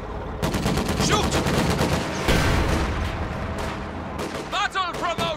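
In the World War II strategy game Company of Heroes 2, bursts of rifle and machine-gun fire crackle loudly and almost without pause. Soldiers' shouted battle lines cut in near the end.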